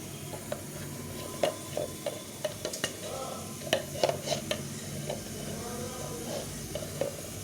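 A spoon stirs ground cumin and chilli powder into a paste for dal, giving soft, irregular scraping and tapping strokes close by against a bowl, alone with no talk.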